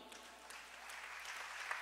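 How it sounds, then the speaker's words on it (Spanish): A church congregation applauds in a faint, steady patter of clapping that holds for about two seconds. "Date un aplauso a ti."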